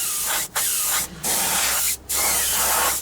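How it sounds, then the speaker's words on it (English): Continuous hiss of an aerosol can of Winsor & Newton matt UV varnish spraying in three long bursts separated by brief gaps, loud and close. "we just give it a nice spray like so"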